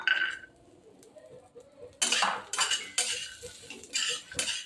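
Metal utensil scraping and clinking against a pan in bursts, stirring sesame seeds and garlic cloves roasting dry, with quiet pauses between the strokes.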